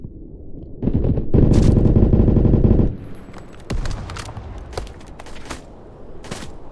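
Gunfire in the video game Blackhawk Rescue Mission 5: a sustained loud burst of automatic fire for about two seconds, then scattered single shots and short bursts, close and punchy.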